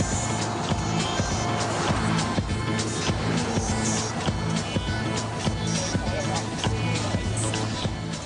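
An Aston Martin supercar roars steadily at high speed on its first laps around the Nardo track, with the sound continuous and partly masked by someone talking over it.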